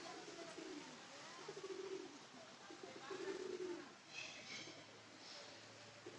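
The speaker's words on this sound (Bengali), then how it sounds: "এক ধরনের পায়রা।" A pigeon coos softly in a small mini zoo at a historic garden house in Murshidabad, with several low, rounded coos spread across faint ambient background noise.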